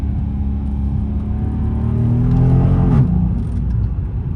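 A loud 2nd gen Dodge Charger engine growls and revs during a night drive, a deep steady rumble that climbs in pitch and then drops back as the revs fall.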